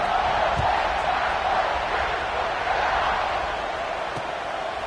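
A dense football stadium crowd roars steadily at a Michigan vs Ohio State game, a broad continuous wash of cheering heard from within the stands with no distinct voices.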